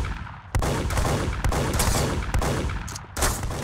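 Gunshots in the Roblox game Arsenal: a handful of sharp, loud shots spaced irregularly, each a crisp burst followed by a short decaying tail, with no talking.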